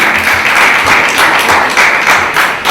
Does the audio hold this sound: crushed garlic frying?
no